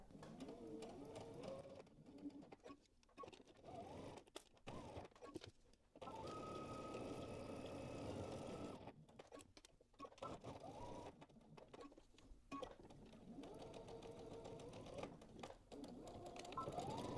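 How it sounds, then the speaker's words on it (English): Home sewing machine stitching a dress collar with a 5/8-inch seam allowance, running in bursts of rapid mechanical stitching broken by short pauses, close and moderately loud. "now we're going to go ahead and stitch our collar together"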